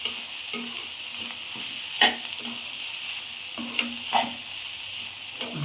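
Onion and capsicum sizzle steadily in hot oil while a spoon stirs them, with a few sharp scrapes and clinks against the pan standing out over the continuous frying hiss.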